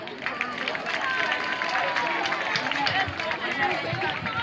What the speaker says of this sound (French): On applaudit très fort M. Teki